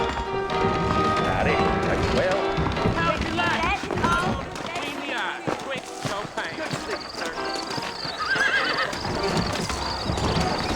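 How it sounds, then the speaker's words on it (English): Horses in the Red Dead Redemption video game whinny and clip-clop, with repeated neighs over hoofbeats and a character speaking over the animal sounds. "I got the horses saddled up and ready out front."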